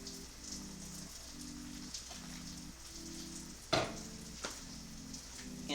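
Vegetables sizzle steadily in a hot pan, a continuous close hiss with a couple of sharper crackles, while soft tonal music plays underneath.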